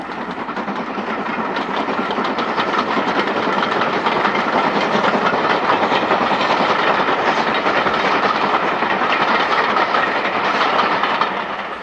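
BR Standard tank locomotive 80098 from the Midland Railway Centre in Derbyshire runs past, its wheels and carriages giving a loud, steady clatter and rumble with a hiss of steam that holds the whole time.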